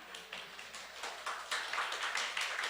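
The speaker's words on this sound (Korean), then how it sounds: "우리 어린아이들에게 박수 한번 부탁드리겠습니다" Scattered clapping from a church congregation during an all-ages Sunday worship service, a thin, uneven patter of a few hands applauding children, moderately quiet and without talk.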